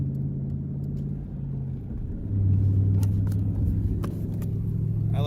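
Ford Mustang engine revving up from a low idle rumble, then winding down slowly with a long, drawn-out deceleration, heard from inside the car with some rattling and clicks.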